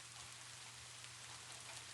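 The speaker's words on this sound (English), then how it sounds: "raindrops lightly splatter against the heavily curtained windows behind you" Light rain splatters against heavily curtained windows as a steady, soft, even hiss, faint and continuous with no voices.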